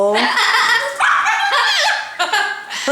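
A pet parrot makes growling, barking-like squawks up close, loud and rapid over about three seconds, with a person talking alongside.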